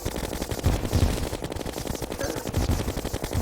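Rapid automatic gunfire from a player's gun in the game Terraria, a dense continuous rattle of shots that stays loud from start to finish with no talking.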